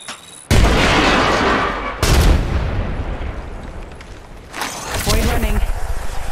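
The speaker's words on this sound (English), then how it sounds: "Look out, grenade." Grenade explosions in Apex Legends, with three heavy, loud booms erupting a couple of seconds apart, each trailing into a noisy rumble, while voices are heard in between.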